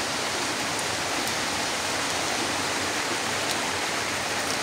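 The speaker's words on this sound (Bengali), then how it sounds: "রোদের মধ্যে বৃষ্টি, বাহ কি চমৎকার" Rain falls steadily during sunshine in Bangladesh, a dense, even hiss of drops that fills the scene without pause, fairly loud and close, with no voices.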